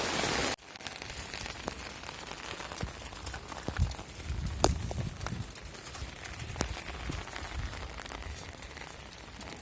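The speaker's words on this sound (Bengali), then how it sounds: "হাই গাইস, আপনারা দেখতেই পাচ্ছেন কি হারে বৃষ্টি হচ্ছে।" Rain falling steadily over a waterlogged village road and flooded fields, a soft continuous patter with scattered sharper drips and splashes, fairly quiet and close.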